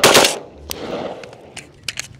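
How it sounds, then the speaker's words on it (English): A 20-inch 5.56 rifle fires 77 grain OTM rounds at a steel or ceramic armor target: one sharp, loud report with a ringing decay, followed by several quick metallic impacts and clatters. "I have some 77 grain OTMs that we're gonna shoot the target with."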